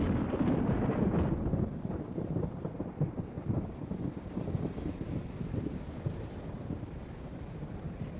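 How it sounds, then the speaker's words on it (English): Low rolling thunder from a summer electrical storm over the desert rumbles continuously, heavy and broad at first, then easing to a steadier, softer growl, with no voices. "electrical storms roll across the desert, often shedding only drops of water."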